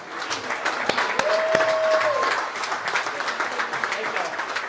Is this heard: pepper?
no